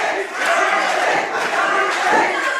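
Wrestling crowd at a live show roars and yells in support of a wrestler, a loud, dense wall of shouting voices that surges in waves over a few seconds.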